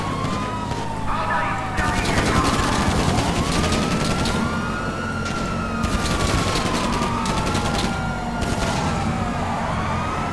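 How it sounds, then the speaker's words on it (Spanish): Police car siren in GTA V wailing continuously with rising and falling sweeps, loud and close over engine noise and bursts of gunfire, with excited voices talking throughout. "Mira lo que le queda a la sirena, ¿no?"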